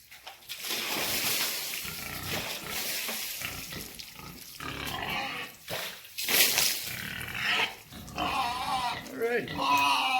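Grumpy pigs grunting and snorting up close in a farm pen, rough repeated calls running nearly continuously with someone speaking over them.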